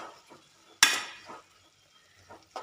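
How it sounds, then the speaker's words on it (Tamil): Cabbage sautéing with salt in a pan, heard as a few sharp spoon scrapes and clinks against the pan with a soft sizzle between them, close and otherwise quiet. "உப்பு சேர்த்து நல்லா வதக்கிக்கோங்க."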